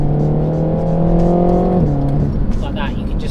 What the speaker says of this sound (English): It's got a nice exhaust tone, considering it's something so standard.